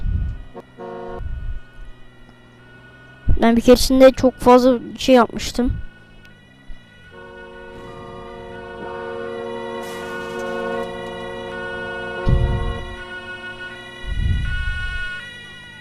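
Police sirens in a Roblox video game wail as they approach amid engine and traffic noise, with a person talking over them in bursts.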